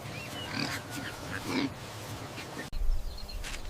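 Short piglet grunts and snuffles come in uneven bursts close by, over a steady background hiss, with a louder thump near the end.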